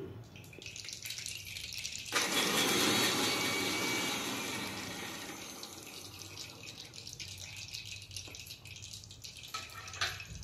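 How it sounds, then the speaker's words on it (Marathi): A kitchen mixer grinder blends garlic cloves, its motor roaring up abruptly after a quiet start, loud at first and then settling into a steady whir that fades slightly. "आपण लसूण बारीक करण्यासाठी मिक्सरमध्ये टाकून एकदम त्याला बारीक करून घेऊ।"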